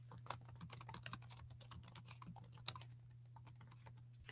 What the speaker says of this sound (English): then we're going to start to type